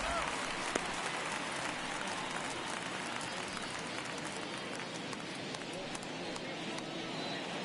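A dense, steady roar of crowd noise fills a baseball stadium during a Rockies vs Twins game in the ninth inning, constant and broad with no clear voice standing out.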